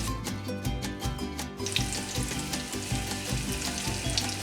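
Cuban potato balls fry in hot oil, giving a loud, steady bubbling sizzle up close that rises sharply as more pieces drop in, with no talking.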